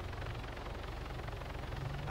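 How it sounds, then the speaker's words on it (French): A helicopter touches down in a video game, its steady rotor and engine rumble droning continuously and fairly loud, with no talking over it. "On attend juste que l'hélico se pose."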